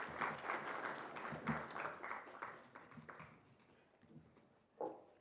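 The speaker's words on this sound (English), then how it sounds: "Please clap for her as she walks." Faint audience applause at an economics debate event as a participant walks up, a quiet, steady spatter of claps heard at a distance with little speech.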